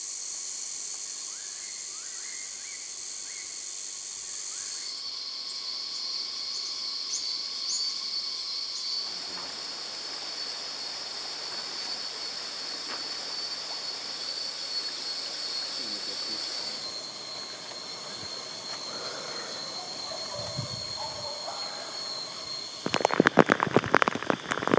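Tropical rainforest ambience in Sumatra with a dense, steady wash of insect and cricket buzzing and high whining tones throughout, shifting texture midway, and a burst of louder crackling rustle near the end.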